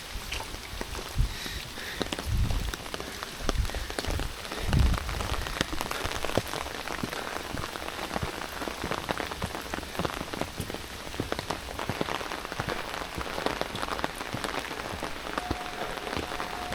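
Steady rain falling on surfaces outdoors during a humid summer in Matsuyama, Japan, near Dogo Park, a continuous loud patter with occasional footsteps.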